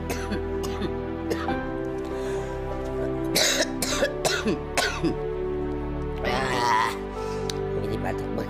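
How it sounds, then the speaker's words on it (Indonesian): A woman coughs several times in short harsh bursts and clears her throat, close to the ear, over a constant low electrical hum. "Jadi batuk begini sih."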